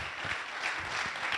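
Audience applause at a football storytelling event in Italy, a continuous dense patter of many hands clapping at moderate volume, steady and unbroken with no speech over it.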